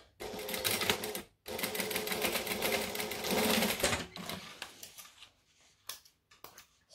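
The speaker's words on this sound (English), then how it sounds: "Stitch and then trim." A sewing machine stitches backpack fabric in close, loud whirring runs: a short burst, then a longer steady run of about two and a half seconds, followed by brief faint bits as it stops.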